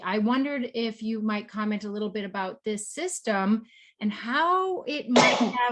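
A single sharp sneeze bursts out near the end of a scientific expert interview, brief and close, following steady conversational speech from a questioner.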